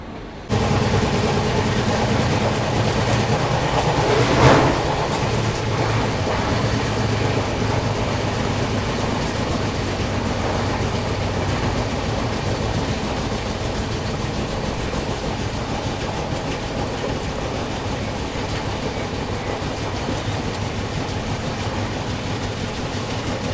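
Mahabodhi Express 12398 rolling onward just after leaving New Delhi, a steady loud rumble of wheels on rails with faint clickety-clack and a brief louder swell early on, no voices.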